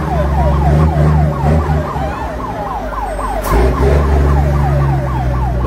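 A fire engine siren wailing loudly and close as firefighters arrive at a blaze at a night market, the rising and falling tone repeating over a rumbling truck engine, briefly broken by a sharp blast midway.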